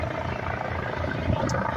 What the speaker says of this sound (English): Alright, we got a helicopter coming in.